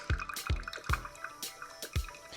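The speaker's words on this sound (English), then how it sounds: "the coffee's coming out of the portafilter" Bones coffee dripping from the portafilter of an espresso machine: about five distinct, close drips fall at an uneven pace over a faint background hiss.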